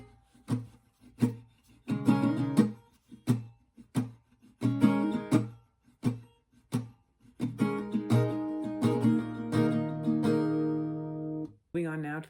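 An acoustic guitar plays the full intro of a song, with rhythmic, percussive muted strums that give way to sustained ringing chords. The sound is close and steady, ending with a brief noise.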